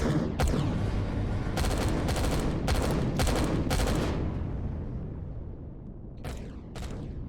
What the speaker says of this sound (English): it looks like it's just more bombers. But we need to get out of here so they're not shooting at the base